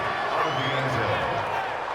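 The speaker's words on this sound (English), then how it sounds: "You can already start to hear this crowd" Football stadium crowd at an NFL game, San Diego at Oakland, a dense, continuous roar of cheering and chanting with voices talking over it.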